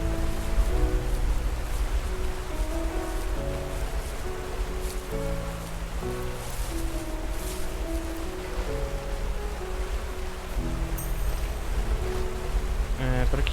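Steady broadband roar of a waterfall shaped like a portal in the video game The First Tree, continuous throughout beneath layered melodic game music.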